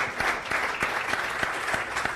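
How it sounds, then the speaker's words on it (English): Audience applause for Newstead Brewing at an evening brewing event, a dense, steady roar of many hands clapping close by that carries on for the full stretch without any talk. "big round of applause for Newstead Brewing"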